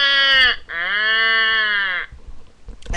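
A man imitates a crow call with two harsh, drawn-out caws, the second longer than the first, voiced close and clear, followed by quiet.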